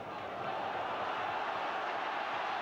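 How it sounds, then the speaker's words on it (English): A football crowd at Blackpool's ground during an FA Cup fourth-round match against Queen's Park Rangers in 1982 applauding a defender, heard as a distant, steady wash of clapping and murmur without distinct peaks. "Peter Noble earns a round of applause for some stern defending again."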